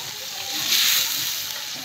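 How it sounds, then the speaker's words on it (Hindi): Water poured into a pan of spiced potatoes for a home-style aloo sabzi, giving a steady broadband hiss and slosh that swells briefly mid-pour, close and fairly loud with no talk. "तो अब इसमें डालेंगे हम पानी"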